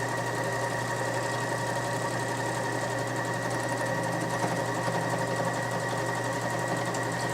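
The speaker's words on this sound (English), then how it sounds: "As I continue sewing down the length of this, I can adjust the speed." Janome 4120QDC-B sewing machine stitching stretchy fabric: an even, continuous mechanical whir and rapid needle chatter hold at a steady speed, close and moderately quiet, with no voices.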